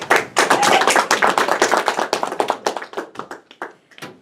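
A small audience at a speech-evaluation meeting claps, individual hand claps clearly separated in a quick, uneven rhythm that gradually thins and slows to a few scattered claps.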